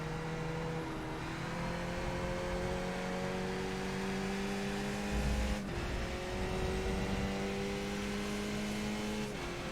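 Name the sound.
race car braking and accelerating in iRacing video game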